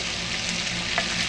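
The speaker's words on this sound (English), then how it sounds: "Just give it a good mix in your cast iron skillet." Taters, green peppers and onions stirred together in a cast iron skillet for a bologna breakfast scramble, a steady close frying sizzle with soft scraping, heard alone without talk.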